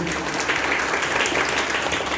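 Applause for a couple at a family gathering celebrating their engagement, a dense, steady patter of clapping hands filling the room for a couple of seconds, with a little voice murmur underneath.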